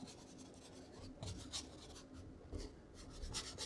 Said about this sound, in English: I'm just really scrubbing in some color